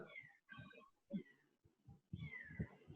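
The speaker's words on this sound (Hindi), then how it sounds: "बिल्ली की आवाज आ रही है" A cat meows repeatedly in short, wavering cries of varying length, fairly faint and close, with brief pauses between calls.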